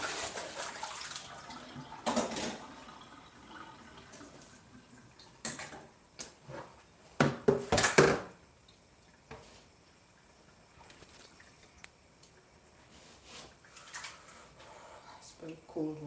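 Cold tap water rinses soaked beans in a bowl, with intermittent splashing and sloshing bursts over a faint running hiss.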